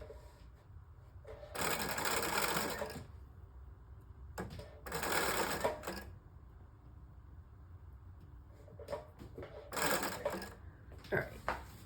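A sewing machine stitches in three loud, whirring bursts of a second or two each, separated by quieter pauses and handling noises.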